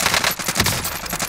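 Rapid automatic gunfire in Call of Duty: Modern Warfare, a loud, close burst of quick repeated shots striking around the player, dense and continuous for about a second and a half.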